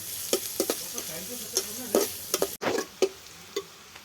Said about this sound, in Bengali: আমি হালকা ভেজে নেব, হালকা ব্রাউন করে ভেজে নেব।